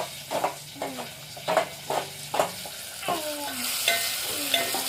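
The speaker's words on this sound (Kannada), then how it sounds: "ಇವಾಗ ಟಮಾಟಿ ಹಾಕೋತೀನಿ" Tomatoes dropped into onions frying in a pan for a chicken dish cooked outdoors in a field, giving a steady sizzle with several scraping stirs of a utensil against the pan.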